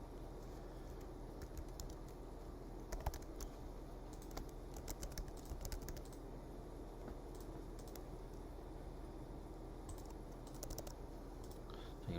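Fingers typing on a computer keyboard while filling in a sign-up form, with a steady patter of quiet key clicks in uneven bursts over a constant low hum, no talking.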